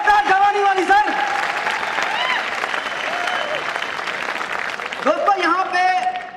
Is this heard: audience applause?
yes